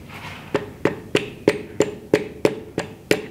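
Piston being tapped down into an inline-six engine block: nine sharp, evenly spaced knocks at roughly one every third of a second, close and crisp, with a hollow metallic ring between hits.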